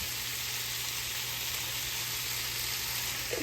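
Peppers browning in oil in a very hot skillet give a steady, loud, close sizzle and fry that holds evenly throughout with no talk over it.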